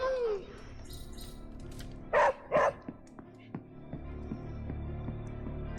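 A dog in the Midnight Suns video game gives two short, loud barks close together, over a low, steady bed of game ambience.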